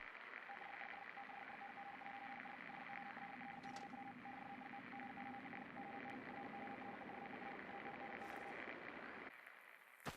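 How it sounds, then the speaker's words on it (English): Ham radio in the game Fallout: New Vegas, with a continuous hiss of static and a steady stream of Morse code beeps that cut out near the end. "a ham radio playing static. Then, Morse code begins playing, giving us the message before cutting out"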